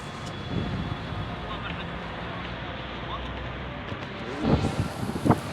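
Strong wind blows steadily outdoors as a broad, rough rumble, with a few louder gusts or knocks near the end.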